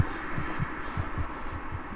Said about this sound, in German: ich höre meinen eigenen Herzschlag